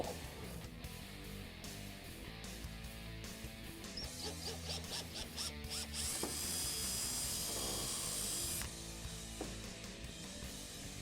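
A power drill whirs steadily, rising to a higher-pitched grind as the bit bites through a raw fiberglass Mustang hood drilling a pilot hole, then easing off; no voices.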